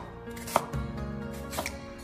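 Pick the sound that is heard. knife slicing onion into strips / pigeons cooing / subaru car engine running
knife slicing onion into strips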